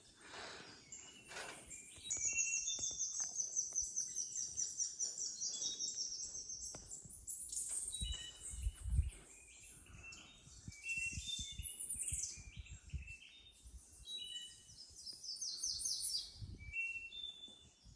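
Birds chirping and singing in a Costa Rica cloud forest, several high bright calls and trills coming in bursts over a quiet background with occasional low rustling bumps.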